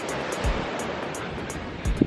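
Surf on a black sand beach in Puerto Viejo, Costa Rica, a steady wash of breaking waves close by, with a few low thumps of wind buffeting the microphone.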